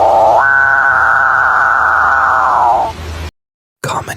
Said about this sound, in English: Capuchin birds, also known as cough birds.